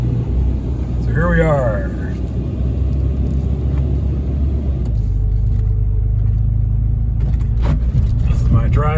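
A high-mileage RAM truck with about 336,000 miles idles and backs up after a cold start, its deep, steady engine rumble running close throughout while someone talks over it.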